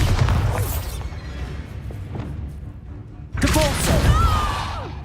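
A Bombarda blasting spell goes off in Hogwarts Legacy, a heavy booming thud over steady low rumble, followed a few seconds later by a second burst of crackling debris and magical shimmer, loud and close amid game combat noise.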